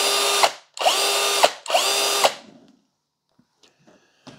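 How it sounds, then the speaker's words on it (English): A Denali 20V brushed cordless drill with an electric brake runs loud and close in three bursts of about half a second each, each one stopping abruptly. Faint clicks and handling noise follow in the quiet afterward. "So the drill does have brushes and an electric brake."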